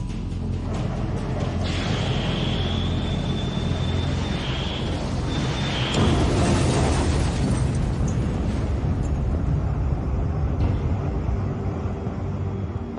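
A Sea Dart missile launch and explosion during the Falklands War comes through as a sustained loud roar and rumble, with a thin tone early on and a harsher burst near the middle.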